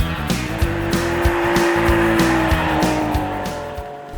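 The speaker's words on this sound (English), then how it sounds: "you get an adjustable M Sport exhaust that provides an emotional M-specific sound" A 2020 BMW X3 M or X4 M with the adjustable M Sport exhaust roars loudly and close up, holding a strong, rising engine note throughout with brief shifts in pitch as it pulls hard.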